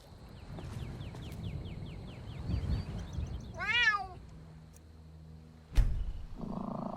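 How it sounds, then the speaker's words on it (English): A cat in the video game Skyrim gives a short, rising meow while being petted, quiet and close, preceded by soft chirping ambient game sounds and a later dull thump. "Petting the kitty."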